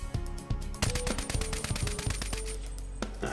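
The ManOwar gun fires in rapid, sustained automatic bursts in a video game, a dense, loud stream of shots with clinking and mechanical rattles running through it, no voices.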